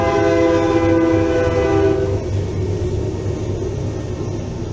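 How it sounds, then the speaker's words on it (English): A train passes close by, sounding its horn in a long, loud blast over a heavy rumble of rolling wheels that continues after the horn stops. "Here comes a train, guys."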